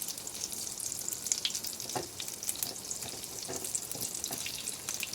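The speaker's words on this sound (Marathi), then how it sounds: "त्यात ही कारली भाजून घ्यायची पद्धतीनं भाजून घ्यायचे दोन्हीकडनं" Bitter gourd shallow-frying in a small amount of oil gives a steady, continuous sizzle with crackling and a few soft stirring or handling taps, close and alone.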